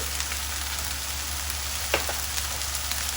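Onion and meat fry in a pan with spices, a steady close sizzle with a couple of soft stirring scrapes partway through.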